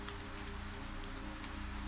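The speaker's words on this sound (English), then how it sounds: "The rain outside continues its soft rhythm" Soft rain falls steadily outside, a gentle continuous patter with occasional brighter drops, quiet and even throughout with no voices.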